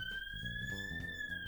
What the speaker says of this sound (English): The sirens go past my window.